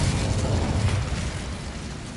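Fire spell explosions burst in the video game Hogwarts Legacy, a dense rumbling blast with crackling that fades slightly over about two seconds.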